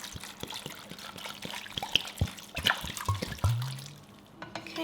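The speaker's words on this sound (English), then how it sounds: "I'm adding 4 cups worth of vegetable stock" Vegetable stock, four cups' worth, poured into a soup pot of spiced pumpkin soup, a close trickling, splashing stream of liquid with a few clinks, running steadily for several seconds before tapering off.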